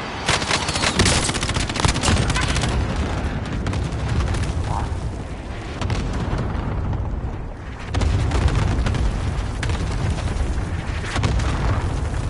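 A called-in artillery strike in a video game: dense, continuous roaring explosions and crackling gunfire fill the whole stretch at close range and high volume, with a brief lull midway before the barrage swells again.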